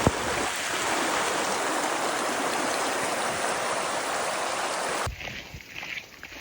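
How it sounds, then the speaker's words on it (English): A river in the Adirondacks rushes steadily with a loud, close broadband flow that cuts off abruptly near the end, leaving quieter outdoor sound. "Now the river's really flowing."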